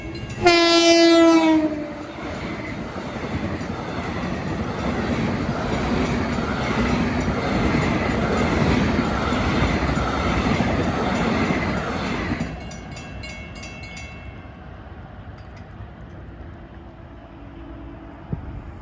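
A train horn blasts loudly at the start, then a long westbound equipment train rumbles and clatters past a roadside yard nearby before fading, leaving a faint ringing crossing bell.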